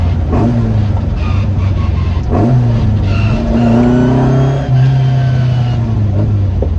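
A Classic Mini engine fitted with a 7 port head revs up loudly and close, running lean, with steady droning harmonics that rise and fall over several throttle blips.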